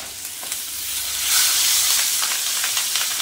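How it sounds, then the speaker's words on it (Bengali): Fish fries in hot oil with a loud, close hiss that swells partway through, oil spattering in rapid crackles and pops over the sizzle. "যে মাছই ভাজি না কেন এত তেল ছিটকায় কেন বলুন তো মাছ ভাজতে গিয়ে?"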